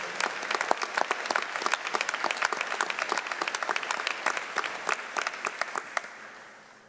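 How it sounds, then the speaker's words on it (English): A commencement audience gives the graduates a sustained round of dense applause, many hands clapping steadily at close range before the sound thins and fades out near the end. "Let's give our graduates another round of applause."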